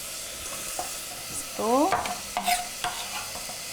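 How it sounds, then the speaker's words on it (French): A ricotta mixture being stirred in a saucepan gives soft scraping and light sizzling sounds, close and fairly quiet, with a brief spoken remark partway through. "Donc là, je vais juste mélanger le tout."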